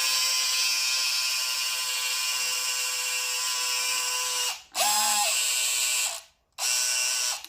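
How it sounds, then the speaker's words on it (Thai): An electric drill spins to twist tie wire, a steady high whine running for several seconds, then cutting out, briefly restarting with a pitch dip and stopping again. "นี่ ค่อยๆ กดสว่านนะครับ"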